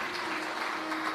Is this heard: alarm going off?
no